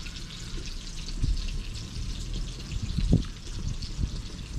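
Sausages frying in a pan outdoors on a windy day, a soft steady sizzle with crackles and pops over faint wind noise.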